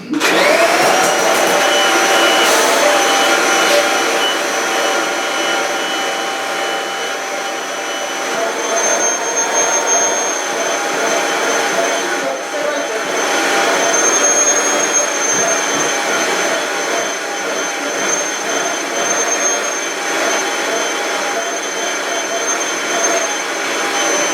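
A loud Kirby vacuum cleaner runs continuously with a steady, high-pitched whine and roaring airflow, close by, with slight fluctuations in pitch.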